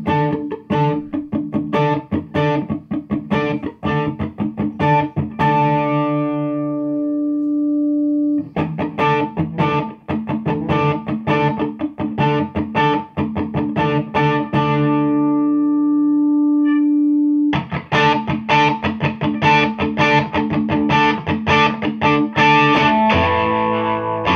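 Electric guitar through a Walrus Audio Mayflower overdrive pedal plays repeated picked notes and chords in phrases, with a gritty, sustained tone and short pauses between passages.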